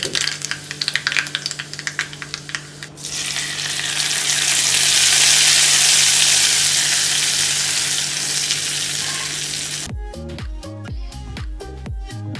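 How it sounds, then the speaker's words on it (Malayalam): Mustard seeds and curry leaves fry in coconut oil in a pan, building from light crackling to a loud, continuous sizzle. Rhythmic music takes over near the end. "കുറച്ച് വെളിച്ചെണ്ണ ഒഴിക്കുക പാൻ വെച്ചിട്ടുണ്ട് കടുക് വറുക്കണം"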